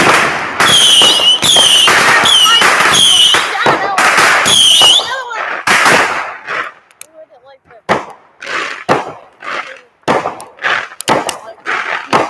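Fireworks burst in a rapid cluster of loud, close bangs and crackles at the start, then fade into scattered pops and distant booms while people talk and react nearby.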